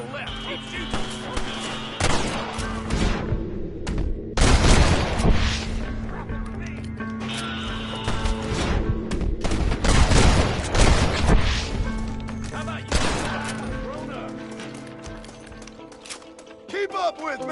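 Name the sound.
gunfire in a shootout, from video game Red Dead Redemption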